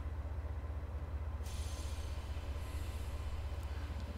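A locomotive rolls along in the Train Sim World 4 simulator, giving a continuous low rumbling drone with steady rhythmic pulsing and a thin high-pitched squeal that rises partway through and then eases.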